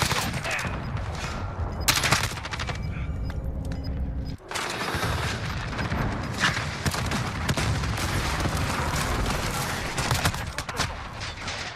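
Continuous loud gunfire and explosions from a Call of Duty Modern Warfare match, with a brief pause midway before the shooting resumes steadily and densely, sporadic voices mixed beneath.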